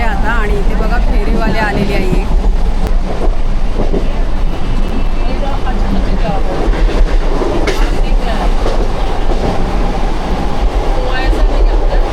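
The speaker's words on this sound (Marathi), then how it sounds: "आमची ट्रेन बघा इकडून चालली" A passenger train rolls through a station with a loud, continuous rumble and clatter of wheels on rails throughout, while someone talks over it.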